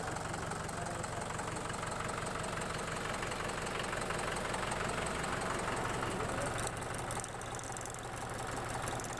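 A 2012 Mahindra Sarpanch 475 DI 42 HP tractor with power steering, about 6000 hours on the meter, idles steadily close by with a continuous low diesel rumble and knock, alone without voices.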